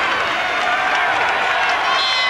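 A crowd at a Baylor versus Texas A&M college volleyball match in 1993 applauds in the gym, a steady, dense wash of clapping and cheering that holds at an even level throughout.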